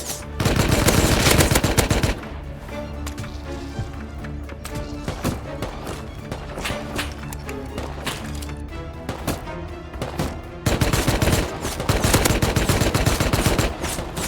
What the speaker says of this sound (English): Why am I getting shot up by an AK?